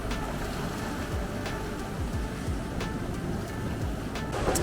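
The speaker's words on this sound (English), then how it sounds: "enjoy the sound of the ocean" Ocean waves wash steadily nearby at Enoshima island, Japan, a continuous broad rushing surf with gentle swells, no talking.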